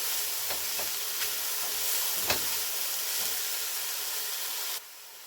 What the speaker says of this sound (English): I'm just going to cook this for a minute and get it all browned up so it's starting to be about translucent